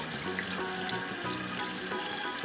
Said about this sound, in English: Always remember to wash your meat off, especially if you get dirt on it.